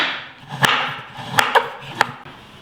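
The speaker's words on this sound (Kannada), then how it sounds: "ಇದಕ್ಕೆ ಸ್ವಲ್ಪ ವೈಟ್ ಚಾಕ್ಲೇಟ್ ತಗೊಳ್ತಾ ಇದ್ದೀನಿ. ಇದನ್ನು ಸಣ್ಣದಾಗಿ ಕಟ್ ಮಾಡ್ಕೊಳ್ಳೋಣ." A knife chops white chocolate into small pieces on a board, making a few sharp, separate knocks spread over a couple of seconds, close and clear, with soft handling noise between them.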